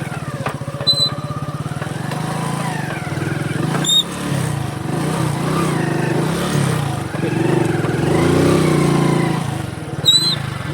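A motorcycle in first gear idles and revs lightly while held at half clutch, giving a steady close engine drone with small rises in pitch throughout and a few brief chirps over it.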